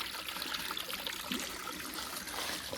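Natural spring water runs from a pipe outdoors in a steady, quiet, unbroken trickle with a hissing, splashing texture and no voices.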